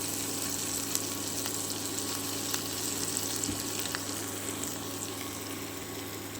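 Onions and chilies frying in oil in a pan alongside silver carp fat, a steady soft sizzle with faint crackles running evenly throughout, close by and alone without talk.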